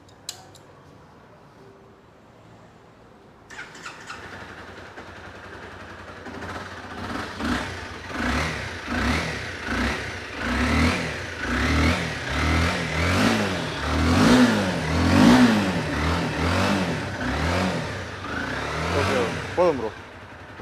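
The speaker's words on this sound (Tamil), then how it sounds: "இப்போ இந்த இன்ஜின் வந்து பர்ஃபெக்ட் ஸ்டார்ட் பண்ணி காமிச்சலாமா ப்ரோ?" A Honda CBR 250 motorcycle engine starts after a quiet pause, then revs repeatedly in rising and falling bursts, loud and close, with brief talk at the start and end.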